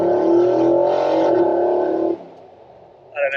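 A Nissan Patrol Y62 V8 pulls hard at full throttle from a standstill with the windows down, its exhaust giving a loud, rising roar heard from inside the cab that then drops away sharply.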